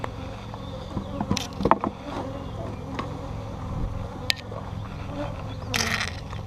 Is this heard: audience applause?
no